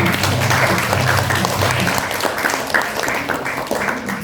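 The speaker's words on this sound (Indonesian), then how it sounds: "Aplaus untuk kelompok 1." Classroom of students applauding a student group, dense loud clapping from many hands lasting the whole stretch, close by and without talk.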